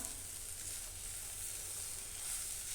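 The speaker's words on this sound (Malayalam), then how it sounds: "ഇനി നമുക്ക് ഇതിലേക്ക് തേങ്ങയിട്ട് കൊടുത്തിട്ട് നല്ലതായിട്ട് ഒന്ന് ഇളക്കി കൊടുക്കാം" Grated coconut is stirred into a yam leaf stir-fry in a pan, with a steady, quiet sizzle and faint frying hiss running unbroken throughout.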